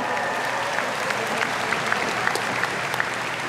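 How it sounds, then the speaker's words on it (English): A large audience at a high school graduation ceremony applauds steadily, a dense wash of clapping that stays even and loud throughout with no voices standing out. "Give them a hand."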